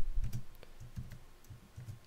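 Quiet, close computer keyboard typing as code is entered, a quick uneven patter of soft key clicks with no talking.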